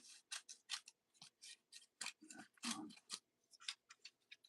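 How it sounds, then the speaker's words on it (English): Scissors snip a triangle out of a file folder for a journal cover, with a quick run of crisp, close cuts in uneven rhythm, some longer crunching strokes near the middle, and no talk. "And then we'll cut up here, cut up a triangle."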